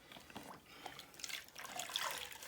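Water squeezed from wet wool felt in a felting tutorial, a quiet, close trickle and drip with soft splashes that build slightly toward the end.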